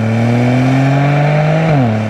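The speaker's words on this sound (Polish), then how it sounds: "słychać tutaj wydech" Exhaust note of a Ford Puma ST facelift with a three-cylinder engine: a steady, loud, close drone that holds pitch and then drops near the end as the revs change, heard alone with no talk.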